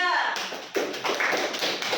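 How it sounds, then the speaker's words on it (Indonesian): A classroom of children clapping for a student group, several loud uneven bursts of hand claps over about two seconds, close and lively with some background noise. "Ya, tepuk tangan untuk kelompok 3."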